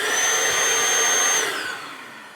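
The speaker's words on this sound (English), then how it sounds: "I can vacuum all the way inside of here." A DEWALT 20V cordless vacuum cleaner's steady high-pitched whine and airy roar, close and loud, dipping slightly in pitch and level near the end.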